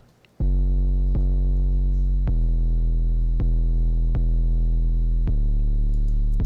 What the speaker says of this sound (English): I wanted the bass to be this 808.